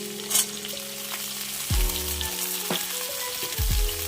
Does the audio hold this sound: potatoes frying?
yes